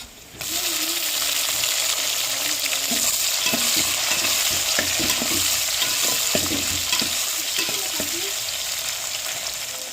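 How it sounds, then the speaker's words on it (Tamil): Onion, green chili and tomato sauté in a hot pan for fish curry, giving a steady loud sizzle with repeated spoon-stirring scrapes and clinks throughout. "வெங்காயம் பச்சை மிளகாலாம் வதங்கிடுச்சு நம்ம வெட்டியாக தக்காளியும் சேர்த்துக்கிறோம்"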